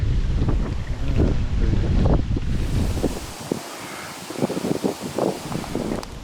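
Strong wind buffets the microphone during an outdoor walk near Fiddlers Ferry between Widnes and Warrington, a loud continuous low roar with gusty bumps that eases in the second half.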